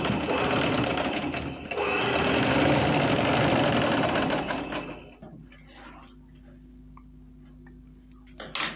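A sewing machine stitches a trouser seam in a fast, loud, even run for about five seconds, then stops, leaving a low hum and a few faint handling sounds before a brief burst at the end.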